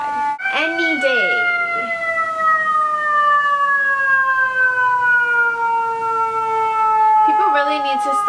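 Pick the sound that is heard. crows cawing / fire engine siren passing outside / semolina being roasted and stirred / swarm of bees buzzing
fire engine siren passing outside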